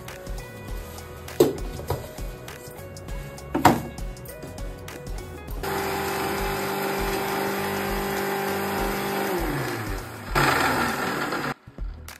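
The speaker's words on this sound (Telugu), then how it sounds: "2 టమాటాలు, 2 ఉల్లిగడ్డలు మిక్సీ పట్టుకుందాం." A mixer grinder blends tomatoes and onions, starting after a few knocks and clatters as a loud, steady whirring motor drone that runs for several seconds, briefly rises in pitch, then cuts off abruptly.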